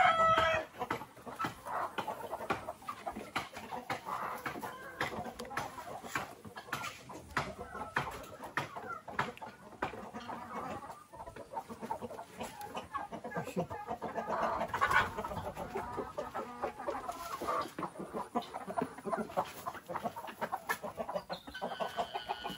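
Chickens cluck and chatter continuously nearby, a busy flock murmuring with occasional louder calls, no talking.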